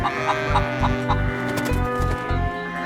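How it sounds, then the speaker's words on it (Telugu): A hen clucks in a steady, repeated rhythm of short low notes, close and clear over a faint tonal background. "అదొక బొద్దుగా ఉన్న గోధుమ రంగు కోడి అది కొక్కరుకోమంటూ"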